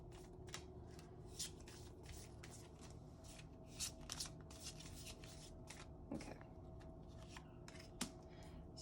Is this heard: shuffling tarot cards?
yes